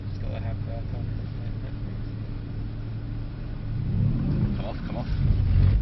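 A Mercedes-Benz AMG C63S engine drones steadily at low pitch, then swells louder in rough surges near the end as the car is driven hard in a drift, with muffled voices talking underneath.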